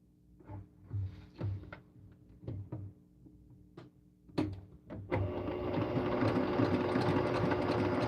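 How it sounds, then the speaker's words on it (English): A sewing machine stitching a quilt runs in short bursts, then settles into a steady, continuous whir, fairly close and moderately loud. "let me know if the sewing machine is too loud"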